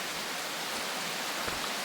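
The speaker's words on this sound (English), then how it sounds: "And it's raining and raining." Steady rain falls in the survival video game Prologue, a constant even hiss of broadband noise with no distinct drops, filling the short stretch at a uniform, moderate level.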